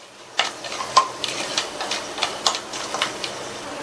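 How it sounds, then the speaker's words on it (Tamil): Whole spices, including cloves, star anise, fennel seeds and bay leaf, splutter in hot oil, giving off scattered sharp pops and crackles over a soft, quiet hiss. "எல்லா ஸ்பைசஸும் நல்லா பொரிஞ்சு வாசனை வரட்டும்."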